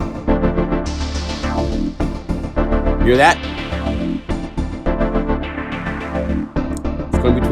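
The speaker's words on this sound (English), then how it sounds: "You will find a patch called CC Writer LifeCycles, and it sounds like this." A Unify synth patch called CC Writer LifeCycles cycles through four different sounds, dense and sustained, filling the clip with layered tones and a brief sweep in the middle, while a voice speaks briefly.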